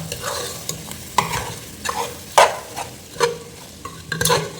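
Coriander powder and garam masala being mixed into beef gravy frying in a pan: a close sizzle under repeated loud scraping strokes of a spoon against the pan at an uneven pace, no speech.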